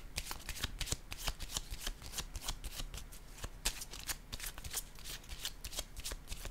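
Playing cards are shuffled and handled during a card reading, giving a quick run of crisp, papery riffles and flicks at close range with no voice.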